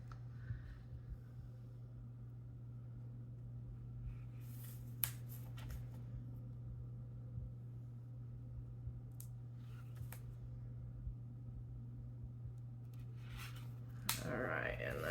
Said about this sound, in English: we'll go ahead and shuffle to get rest